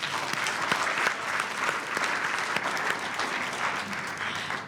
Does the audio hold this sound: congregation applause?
yes